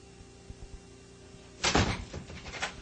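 A door in a house is pushed shut with a solid thud followed by rattling latch and lock clicks, near and moderately loud after a quiet stretch with a few soft knocks.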